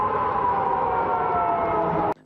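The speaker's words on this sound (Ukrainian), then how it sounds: "і сигнали повітряних тривог" An air raid siren sounding over a Russian city during attacks, heard as a loud, steady wailing tone that holds evenly and then cuts off abruptly.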